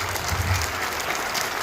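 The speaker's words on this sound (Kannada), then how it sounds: "ಜೋರಾದ ಚಪ್ಪಾಳೆ ಹಾಕ್ಬೇಕಾಗಿ ವಿನಂತಿ." Audience applause at a district-level millet fair and crop insurance relief event in Kalaburagi, a steady wash of clapping held at an even level for under two seconds, with low rumble beneath.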